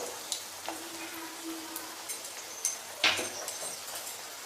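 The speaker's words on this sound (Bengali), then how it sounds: "এখন এগুলোকে দিয়ে খুব ভালোভাবে আমি একটু নাড়াচাড়া করে নিচ্ছি" Chicken with tomato sauce and soy sauce stirred in a hot pan for restaurant-style chilli chicken, giving a soft, steady sizzle with a few light scraping clatters, one sharper utensil knock near the end.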